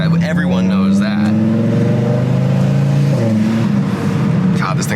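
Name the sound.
turbo Evo car engine accelerating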